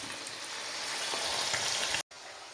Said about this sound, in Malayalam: സൺഫ്ലവർ ഓയിലാണ് ഒഴിച്ച് അതിനകത്തേക്ക് കുറച്ച് ഇട്ടിട്ടുണ്ട് അത് നമുക്കിനി വറുത്തെടുക്കാം